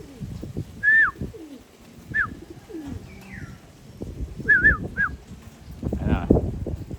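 Pigeons outside a house give several short coos and calls scattered across the moment, close and clear, over soft rustling and bumps.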